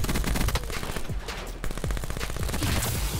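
Gunfire from a fight in the video game Black Ops 4 comes as dense, rapid automatic bursts with overlapping shots. It is loud and continuous, with no talking.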